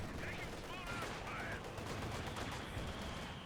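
An MG42 machine gun rattles off in Company of Heroes 2, a continuous stream of rapid, fairly faint gunfire blended into a busy battlefield din.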